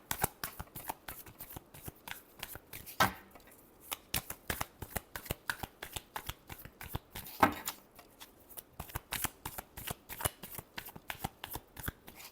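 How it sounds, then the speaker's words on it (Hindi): Tarot cards are shuffled by hand up close, a steady run of crisp riffling bursts with short pauses, heavier riffles marking a couple of moments, and no voice. "Last shuffle."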